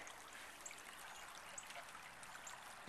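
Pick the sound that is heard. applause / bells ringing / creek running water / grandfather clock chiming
creek running water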